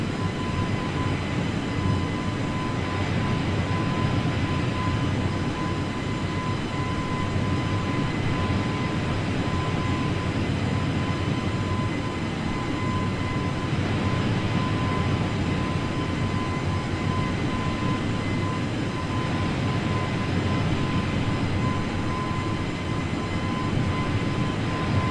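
An airliner climbs after takeoff from San Francisco toward Medford in Microsoft Flight Simulator, its engines making a constant, even roar with a faint steady hum, uninterrupted and with no speech.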